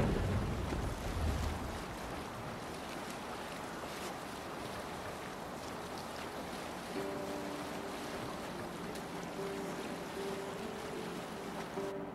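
Sailing boat cutting through open water in Assassin's Creed Valhalla, a steady broadband rush of waves and wind throughout, with faint tonal creaks or horn-like sustained notes entering in the latter half.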